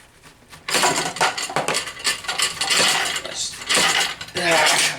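A dull, old Dollar Tree blade cuts and peels a vegetable stem, making scraping and clattering strokes in irregular bursts, fairly close and clear.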